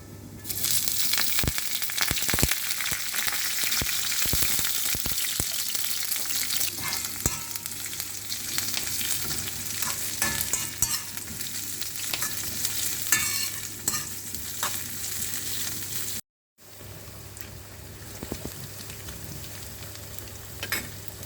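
Cumin, mustard seeds, shallots, curry leaves and green and dried chillies sizzle loudly in hot oil as a tempering, crackling and popping up close. A steady frying hiss runs throughout with only a brief silent gap near the end.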